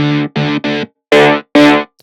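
Five short bursts of a distorted saw synth lead in a guitar-like tone, three quick clipped stabs followed by two longer sustained notes, bright and gritty with effects, loud and alone.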